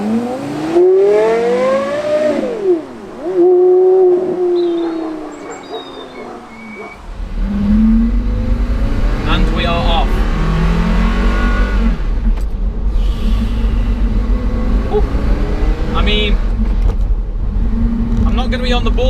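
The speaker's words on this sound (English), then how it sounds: "these carbon clutches, super lightweight, tiny clutch, you actually set off with no throttle at all" Porsche Carrera GT with a lightweight carbon clutch pulling away, engine note rising and falling through revs before settling into a low steady rumble, with someone talking over the first part.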